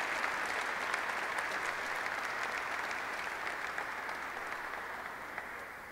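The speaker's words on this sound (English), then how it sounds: "Let's give Ralph a round of applause" Audience at a Black History Month celebration in San Francisco applauding a keynote speaker, a broad sustained wash of clapping from a large crowd, fairly quiet and distant, slowly easing off near the end.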